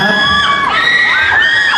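A concert audience cheers and whoops loudly together, with high excited voices rising and falling in a continuous roar throughout.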